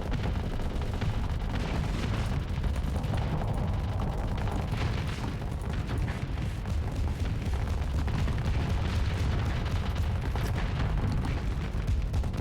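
A ship in the Starsector space game rams its target, setting off a dense, continuous roar of explosions and mechanical din that stays loud and unbroken throughout.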